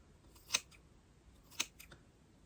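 Scissors trimming hair bangs at the nose line: two crisp, close snips about a second apart, each followed by a softer faint snip, in otherwise quiet surroundings.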